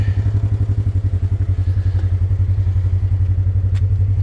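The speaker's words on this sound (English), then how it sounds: "Engine runs fine." A 2020 Polaris RZR XP 4 1000 side-by-side idles steadily up close, its engine thumping in a fast, even low pulse with light clatter and no voices.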